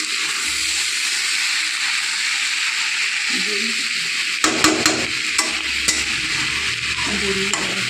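Greens curry cooks in a pan with a steady hiss and sizzle, then a spoon starts stirring and mixing, adding scraping clinks and bubbling toward the end, close and continuous.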